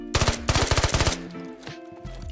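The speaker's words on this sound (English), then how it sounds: "putting rounds downrange." Automatic rifle fire in the tactical shooter game Squad, two rapid bursts of closely spaced loud shots in the first second, then ringing echoes and quieter ambient battlefield noise.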